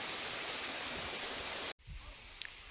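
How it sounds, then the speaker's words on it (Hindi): A mountain waterfall rushes as a steady, broadband roar that fills the scene, then cuts out abruptly and returns softer and more distant. "तो ऊपर देखिए काफ़ी सुंदर एक झरना भी है यहाँ पे"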